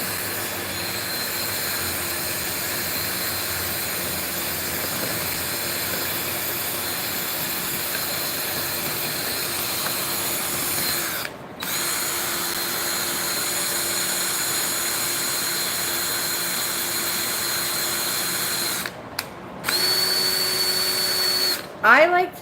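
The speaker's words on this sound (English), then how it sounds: "I like to do both reverse and forward on my drill. I use it to my advantage. It mixes faster and better." A power drill mixes resin in a bucket for a candy table pour, whirring steadily and loudly with a few brief cutoffs near the end as it switches between reverse and forward.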